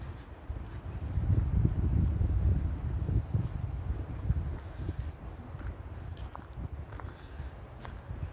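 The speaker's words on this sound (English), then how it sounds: "It's gotten very windy here" Wind gusting through a spring forest by the water near Toronto, a low rumbling buffet that swells and fades, mixed with faint rustles and light footsteps during an outdoor walk.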